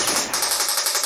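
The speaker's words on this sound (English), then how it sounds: "Look at me shooting that poor pilot." Rapid machine-gun fire from the arcade light-gun game Operation Thunderbolt rattles in a fast, even burst of about a dozen loud shots.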